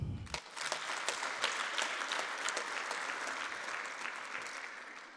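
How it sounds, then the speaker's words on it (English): Applause for the organising committees at a university faculty of management and law annual research day: a room full of people clapping steadily, bright and dense, tapering slightly toward the end. "Therefore, we need to clap for them."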